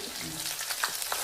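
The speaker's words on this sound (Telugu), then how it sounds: "ఇదిగోండి పచ్చిమిరపకాయలు వేసుకుందాం." Green chillies sizzling in hot oil in a pan while a Godavari-style fish curry is being cooked; a steady close frying hiss with a few brief crackles and stirring sounds, no talking.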